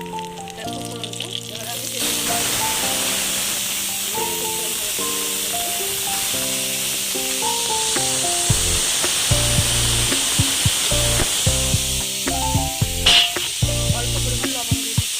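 Split green chilies dropped into hot oil with black cumin for a Bengali papaya ghonto, sizzling steadily and close, with someone briefly speaking over the frying at the start.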